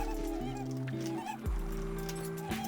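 Moose goose from the game Don't Starve Together honking over steady game music, with a short low honk near the middle and a sharp dip in the tone midway through the clip.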